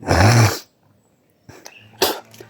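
A man coughs hard once, a loud, close, rough burst, followed after a pause by a couple of smaller throaty coughs and breaths.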